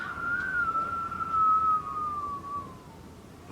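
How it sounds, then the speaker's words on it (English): A thin, steady whistle slowly glides downward in pitch, like wind whistling through a gap, faint and sustained with no voices. "If you guys hear any wind or whistling, it's literally the wind outside."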